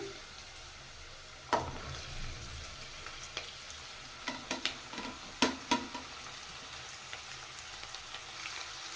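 Beans, carrot and capsicum fry in a pan for restaurant-style fried rice, a soft steady sizzle with occasional scraping stirs and light clinks of a spatula, quiet and close.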